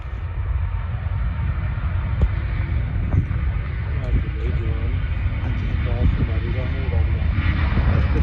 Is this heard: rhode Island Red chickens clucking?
no